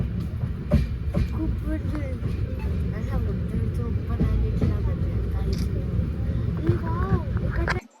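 Steady low rumble and rattle of a moving train carriage, with voices talking throughout over the constant rolling noise.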